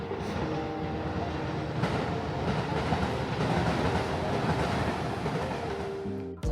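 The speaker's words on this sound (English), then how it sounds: "there's a train down there" A train rolls past below the bamboo forest in Kyoto with a steady, moderately distant rumble and faint clattering of wheels on track, sustained throughout and free of talk.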